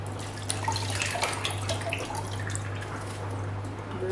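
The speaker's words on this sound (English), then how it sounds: "So I wash my tomato." Tomatoes being washed under a running kitchen tap, a steady close stream of water splashing with a constant low hum underneath and no talking.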